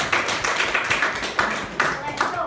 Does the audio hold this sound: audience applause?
yes